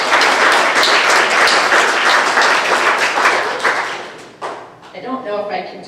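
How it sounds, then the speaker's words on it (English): Audience applauding at a school awards assembly, a dense, steady wash of clapping that fills most of the stretch before thinning out near the end, where a voice starts speaking. "we'll give her a round of applause whether she's in here or not"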